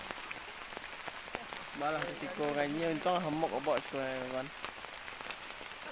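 Steady rain hisses down outdoors while several people talk loudly over it, the wash of falling drops continuing beneath their voices.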